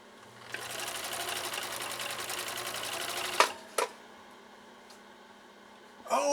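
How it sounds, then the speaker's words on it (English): A 1962 Husqvarna Viking 19E Special sewing machine stitching through thick cowhide, a fast steady whirring run of about three seconds that stops with a couple of mechanical clunks, then a short restart. "let's see how this Husqvarna Viking 19E Special does with a task as tough as this"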